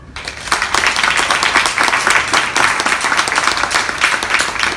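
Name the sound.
audience applause for speaker John Coonrod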